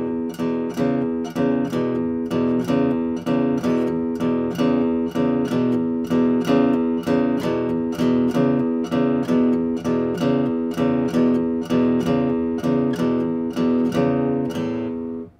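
Steady picked guitar chords on two strings repeat in an even, bouncing rhythm for four measures, clear and close with no voices.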